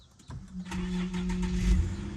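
A 2008 Infiniti EX35 with 313,000 miles, sitting in a junkyard, cranks briefly and its engine catches, settling into a steady, close idle hum.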